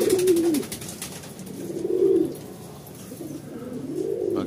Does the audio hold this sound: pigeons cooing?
yes